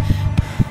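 A heartbeat sound effect thumps three times in quick succession over a low steady hum, each beat a soft, deep, close throb.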